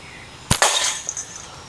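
A slingshot fires quarter-inch ammo: a sharp snap of the release, then a second crack a split second later, loud and close, with no talk.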